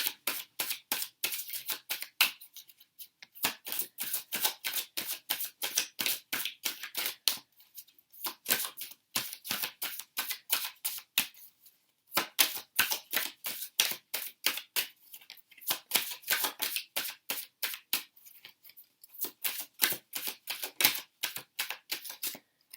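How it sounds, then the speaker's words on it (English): Rapid bursts of crisp, dense card flicks repeat in short rounds with brief pauses between, close and fairly loud, no voices. "I'm just shuffling these cards."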